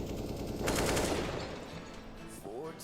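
Gunfire wall bangs in CS:GO during a NaVi vs. FaZe match on Inferno, a rapid burst of shots through walls under a casting backdrop.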